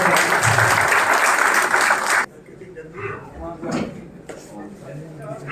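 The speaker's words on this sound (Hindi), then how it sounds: "एक बार इनके लिए भी जोरदार तालियां" Crowd applause at a Congress party public rally in Wazirpur, Delhi, loud and dense for about two seconds, then cutting off abruptly into quieter murmur and a speaking voice.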